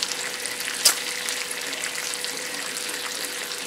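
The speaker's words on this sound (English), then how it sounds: "The first thing I'm going to cook is the bacon." Bacon strips frying in a pan, a steady soft sizzle with one sharp pop or crackle partway through, fairly quiet and with no voices.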